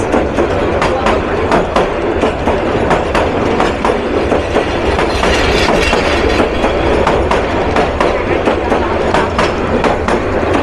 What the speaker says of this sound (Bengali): চট্টগ্রাম থেকে জামালপুর অভিমুখী আন্তনগর বিজয় express. Manikkhali station through pass.